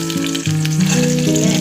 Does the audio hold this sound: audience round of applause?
no